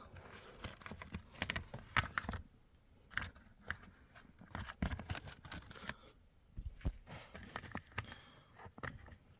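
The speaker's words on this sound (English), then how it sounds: "just unclip from those plastic pins" Plastic pins clicking and snapping as the HV battery air filter of a 2019–2025 Toyota RAV4 Hybrid is unclipped, in a quiet series of close, sharp clicks and rustles, with no one talking.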